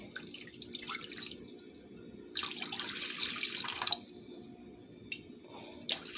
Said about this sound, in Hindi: मैं 2 कप पानी ऐड कर लेती हूँ इसमें।